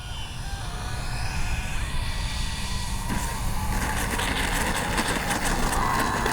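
A Kavan Skyfox L-39 80mm electric ducted-fan RC jet comes in to land, its steady whine and rushing roar holding loud and close, the pitch shifting as throttle changes partway through.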